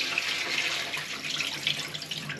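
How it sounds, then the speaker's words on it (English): Hot starchy water from boiled potatoes pours steadily into a kitchen sink as they are drained, a continuous close rushing splash with no talk. "then we are going to take and drain our potatoes."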